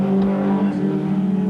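A BMW M3 race car engine at Amaroo Park in the 1987 AMSCAR Series, a loud, close, sustained engine note with a steady tone held over the whole short stretch, heard alone.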